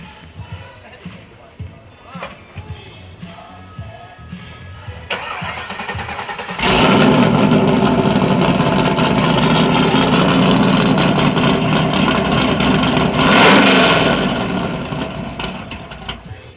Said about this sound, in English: All right, now my dad's gonna start the car.